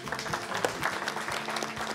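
An audience at a live radio broadcast from the French village of Brigueuil applauds in a steady, dense wash of clapping that is moderately distant and even throughout.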